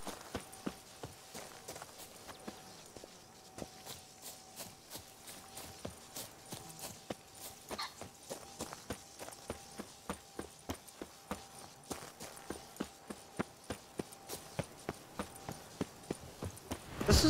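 Horse hooves clip-clop in a steady, evenly paced walking rhythm in The Witcher 3, with distinct, moderately close hoofbeats continuing throughout over a faint ambient bed.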